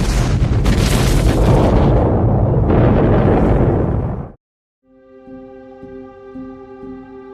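A loud, roaring explosion rumbles for several seconds, then cuts to silence before a sustained tonal drone fades in.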